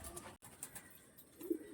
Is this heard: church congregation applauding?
no